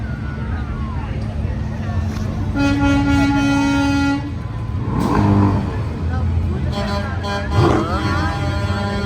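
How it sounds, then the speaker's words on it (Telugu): A car horn honks in a long steady blast amid traffic noise in Newark, with engine rumble and other vehicles passing close by. "చక్కటి హారన్ సౌండ్ అయితే విన్నారు కదా"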